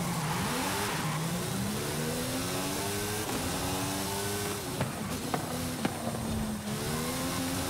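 A Jaguar XJR-15 revs hard in Forza Horizon 5 online racing, its engine note rising and falling through gear changes in a steady, close, loud drone with no talk.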